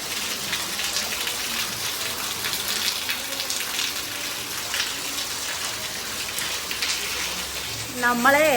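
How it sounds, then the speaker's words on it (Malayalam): Heavy rain falls in a steady, dense hiss around a home, holding even throughout, with a brief louder flurry near the end. "ഞാൻ പറയുന്നു നല്ല മഴയുടെ എത്രമാത്രം ഇങ്ങനെ കേൾക്കും എന്നറിയില്ല"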